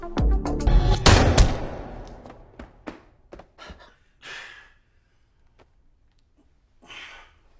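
A pistol fires in a tense film scene, one sharp loud report near the start followed by scattered softer thumps and breaths fading to near silence.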